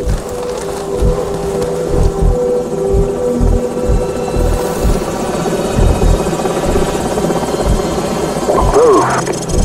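Enemy helicopters in Call of Duty 4 thrum with a loud, steady rotor chop that pulses throughout, a dense mechanical drone dominating the mix, with a brief game effect near the end.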